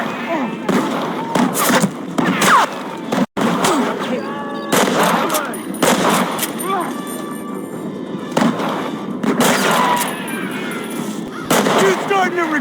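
Loud bursts of gunfire in the video game Red Dead Redemption during a shootout, repeated sharp cracks scattered over a busy mix of game sounds, with voices talking throughout.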